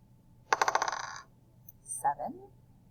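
Small dice tumbling onto a table during a math game, a quick burst of rattling clicks followed a moment later by a second short clatter, close and fairly quiet.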